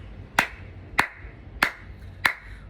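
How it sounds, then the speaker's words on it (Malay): Four sharp single hand claps at a slow, even pace, close and crisp, with no talk over them, offered as applause during a Malaysian political address. "Maka saya ingin memberi tepukan yang paling gemuruh kepada Datuk Seri Zahid Hamidi"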